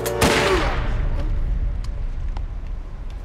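A loud gunshot bursts out in an action film, followed by a booming, echoing tail and a few faint distant pops as the scene rumbles on.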